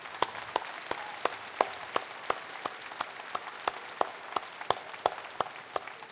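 Audience at a public talk clapping in thanks for a university student volunteer group: a fairly faint, sparse patter of individual claps at a steady pace, more scattered handclaps than a full roar, with no speech.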